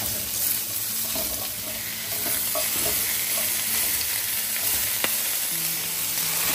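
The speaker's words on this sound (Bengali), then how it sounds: "এবার আমি পেঁয়াজ কলিগুলো মধ্যে ঢেলে দিলাম।" Onions stir-frying in a pan while rice noodles are cooked with shrimp, a steady close sizzle with light scraping as the food is stirred.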